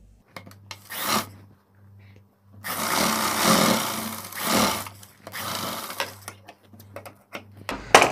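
A sewing machine stitches a pocket onto a salwar in close, loud bursts of rapid needle chatter, separated by pauses filled with a low steady hum and light handling of cloth.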